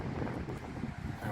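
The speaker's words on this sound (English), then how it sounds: "it's a bit windy down this, I'm afraid" Coastal wind buffets the microphone in a continuous low rumble, loud and gusty throughout the short stretch, with no voices.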